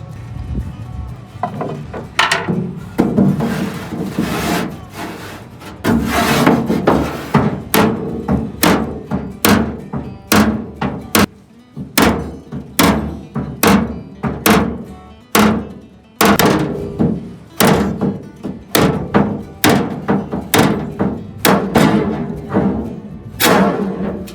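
Repeated sharp metal tapping and thunking from a long pry bar and screwdriver worked against the body panels of an old 1976 Squarebody truck, a steady run of close, loud knocks lasting throughout with no talk.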